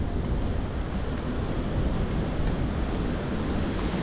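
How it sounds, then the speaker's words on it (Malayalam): Kattikkayam waterfall in Kottayam, Kerala, with water pouring over rocks, gives a steady, dense roar that runs unbroken and loud throughout, with no voices. "അവിടെ നിന്ന് ഇങ്ങനെ വെള്ളം ചാടി ഇവിടെ അവിടെ ഇത്രയും വെള്ളം ചാടുന്നൊരു കാഴ്ചയാണ് കട്ടിക്കയം വാട്ടർഫാളിൽ നിന്ന് കിട്ടുന്നത്"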